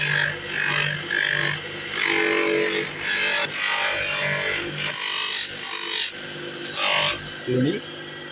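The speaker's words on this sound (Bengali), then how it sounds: "পরবর্তী ধাপ হলো চূড়ান্ত পর্যায়ের পালিশ যাতে চিরুনিটি দৃষ্টিনন্দন হয়" A buffalo horn comb being given its final polish in a horn-craft workshop in West Medinipur: rhythmic bursts of rasping, rubbing friction with short pauses, close up, alongside intermittent speech.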